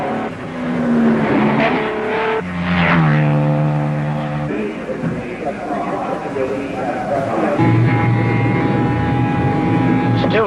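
Aston Martin race car lapping the track in a night-into-day endurance race, a steady loud engine drone with pitch rising and falling under continuous commentary, and other race cars passing alongside.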